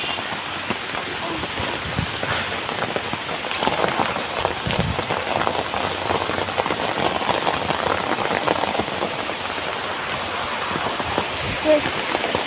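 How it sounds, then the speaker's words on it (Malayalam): Steady rain falling outdoors near a house with a pond and well, a continuous close patter on surfaces with a brief thicker burst midway, and voices faintly present underneath. "മഴ പെയ്യുന്നു"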